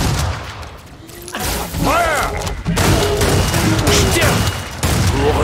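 Gunfire in a video game map, dense bursts and heavy thuds crowding together at close range, loud throughout, with shouting voices mixed in over the shooting.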